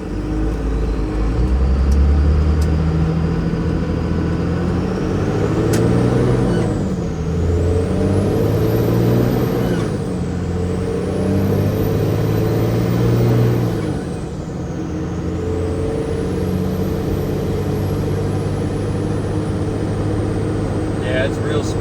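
A 1994–2002 Dodge Ram 2500 four-wheel-drive truck driving after a third-gen track bar conversion, its steady engine drone and road rumble continuing throughout, with a rising and falling whine and people talking over it.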